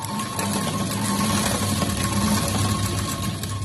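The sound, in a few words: sewing machine stitching blouse piping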